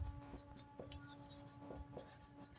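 Writing on a board produces faint, soft scratching strokes in short bursts, close and quiet against a low background hum.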